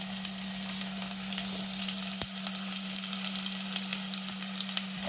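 Chopped onions sizzle and crackle steadily in hot oil while cooking a Chettinad chicken gravy, a constant frying hiss with scattered pops and one brief stir partway through.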